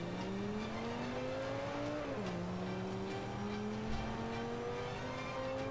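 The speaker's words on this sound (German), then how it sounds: "So, dann fahren wir mal langsam los." A BMW X5 in Forza Motorsport 5 pulls away, its engine droning steadily with rising pitch, a short dip as it shifts gear, then climbing again over constant road and wind noise.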